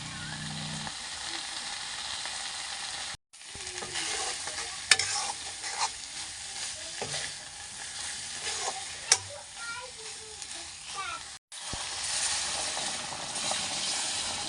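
Tomatoes, potatoes and peas fry together in a pan with a continuous close sizzle, broken by the scrape and clatter of stirring and two brief cuts in the sound.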